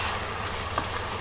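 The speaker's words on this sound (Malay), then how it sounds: "kita tumiskan cili kering ni hingga kering ayak dan pecah minyak" A steady hiss and crackle of ground dried chili paste frying in hot oil, close and continuous, with a faint stir partway through.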